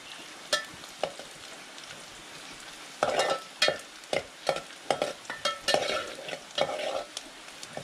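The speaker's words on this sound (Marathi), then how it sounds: "तर इकडे कांदा लालसर होतोय" Onions fry in a pan for a crab curry, a low sizzle broken by a string of sharp spatula scrapes and stirs that come irregularly, then more densely in the second half, close and without talking.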